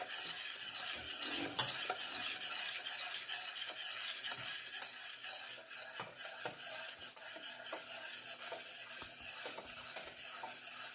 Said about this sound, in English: we just have the same foam and I'm just stirring through it